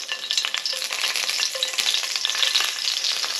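Thinly sliced red cheongyang chili peppers fry in oil for chili oil, a steady close sizzle with bursts of crackling and stirring clicks, no talk.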